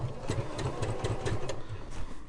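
A sewing machine stitching across a cushion cover along a drawn line, its rapid mechanical whir pulsing in short even bursts, close and steady for the whole stretch with no talking.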